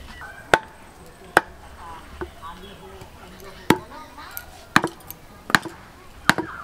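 A knife cutting through hard palm fruit (tal korom) with heavy pressure. Sharp, close chops come at irregular intervals, about eight across the stretch, over faint background sound.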